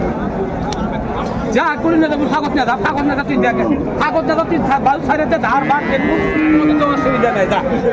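A cow and calf moo repeatedly at a busy open-air cattle market in the rain, loud and close, amid constant crowd chatter and people talking nearby.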